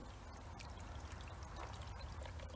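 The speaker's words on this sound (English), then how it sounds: "you can just let it free flow out like this, and it'll actually drain a lot faster" Water from a Lay-Z-Spa inflatable hot tub free-flows out of its drain onto the ground, a steady, faint trickling pour without pause.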